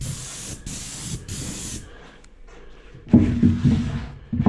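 An airless paint sprayer lays a cabinet coat on furniture, giving loud hissing bursts: three short sprays, a quiet pause, then a longer hiss near the end.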